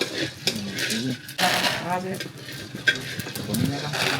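Barako coffee beans being stirred by hand while roasting in a pan, a scraping, rustling sizzle with occasional clinks, heard close and steady under intermittent talk.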